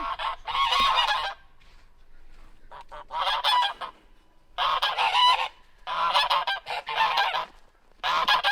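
Farm geese honking loudly in repeated bursts, several birds calling together in clustered volleys separated by short quiet gaps.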